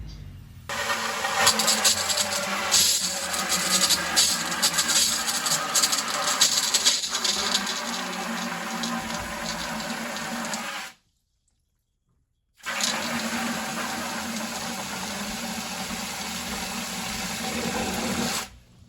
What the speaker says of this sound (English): It's a very old jet pump, so we're going to be sitting at just under 40 pretty much all the time